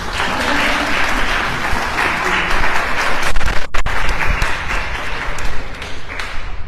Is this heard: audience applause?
yes